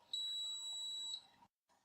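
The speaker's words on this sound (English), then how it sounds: "The end of the marker reaction is announced by beeping sounds" A single high, steady electronic beep from a FertilityBox testing device sounds for about a second, clear and close, followed by quiet.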